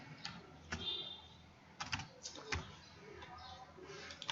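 Someone types a new password on a computer keyboard in Windows 10. Quiet, close keystrokes come in irregular, sparse clicks and small bursts against a faint room hush.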